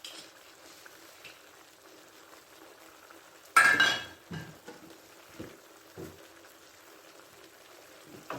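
Chicken and vegetables with a little sesame oil are being mixed in a pan: one loud scraping clatter, then softer, scattered stirring scrapes and knocks, close by and quiet, with no talking.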